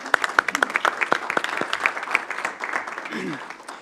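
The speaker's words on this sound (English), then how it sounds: "Give those 2 ladies a round of applause." Audience at a school board meeting applauding two teacher award nominees, scattered individual claps near the start building into a moderate steady round, with murmured voices underneath.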